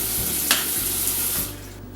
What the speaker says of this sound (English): Now I'll put some water in here and shake it up